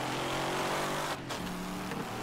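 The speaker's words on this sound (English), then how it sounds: "it sounds like a V8, but it sounds different to the other ones" A V8 car engine in the Wreckfest racing video game revs loud and close, a dense steady roar that briefly dips before building again, with no speech over it.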